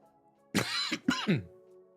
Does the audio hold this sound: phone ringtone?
no